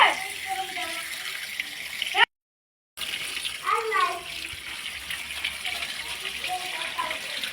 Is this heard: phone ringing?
no